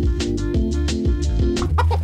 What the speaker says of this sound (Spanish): ¿Es la gallina de Chris? ¿De dónde ha salido?